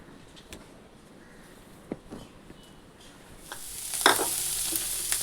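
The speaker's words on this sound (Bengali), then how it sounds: "এখানে সোয়াবিন ভাজা বসিয়ে দিয়েছি" Soybean chunks fry in a pan: quiet stirring taps and scrapes at first, then a loud, close sizzle that swells and holds steady to the end.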